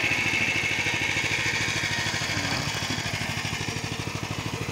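An Ugra walk-behind tractor fitted with a drive adapter, its small engine chugging in a fast, steady, close and loud rhythm, with a slight shift in pulse toward the end.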